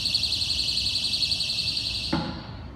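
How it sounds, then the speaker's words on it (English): Shrill pulsing electronic alarm from a Defibtech AED cabinet as its door is opened, a loud, steady, rapidly warbling high tone that runs alone without speech before cutting off near the end. "the alarm goes off"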